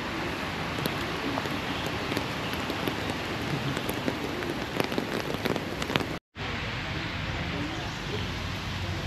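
Steady rain pours down in the ancient town of Ayutthaya, Thailand, a dense, close hiss of drops on surfaces that continues throughout, with a brief drop-out near the end.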